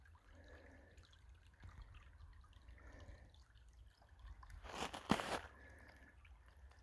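Water flowing and trickling at an off-grid A-frame cabin, a faint steady wash that swells into a brief louder gush near the end before settling back to a low trickle.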